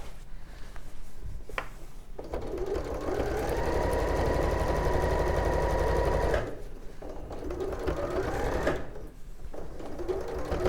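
A domestic sewing machine stitches a seam in sashiko fabric work, with a steady close whir running for several seconds at a time, pausing twice and starting again between runs.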